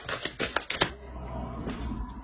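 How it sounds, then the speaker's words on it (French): A tarot card is drawn from the deck: several quick, crisp snaps and flicks of card stock at close range, followed by a softer, lingering rustle of handling. "On va rajouter une carte avec le tarot."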